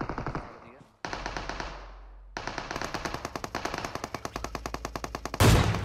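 Gunfire in the PUBG Mobile game, with AWM sniper shots among rapid bursts of shots, sharp and loud close up, alongside other game sound effects.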